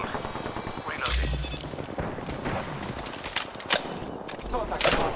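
Video game gunfire crackles in repeated bursts and rapid volleys at close range, dense and loud throughout, with voice lines mixed in amid the shooting.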